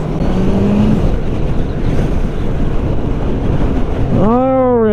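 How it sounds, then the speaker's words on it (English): Strong wind roars steadily across the microphone in a loud, constant buffeting rush, with a brief tonal hum near the end. "it is extremely windy here"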